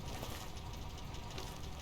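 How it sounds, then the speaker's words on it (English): A steady, low engine drone idles in Phasmophobia near parked police cars outside a diner, a dense, constant hum without breaks or variation. "I think it might actually only be the engine."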